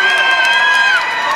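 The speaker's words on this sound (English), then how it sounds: "And obviously, the crowd are going mental." A crowd cheers at a Spirit FC MMA fight, a loud sustained roar of voices with shouting and a few high-pitched screams rising above it, steady throughout and fading slightly at the end.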